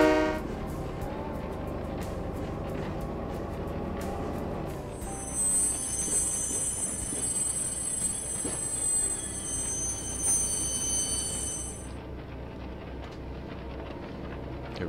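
Rolling stock in the Train Mechanic Simulator 2017 video game grinds and squeals along the rails near a diesel depot, then a long sustained horn blast sounds through the middle of the run and cuts off near the end.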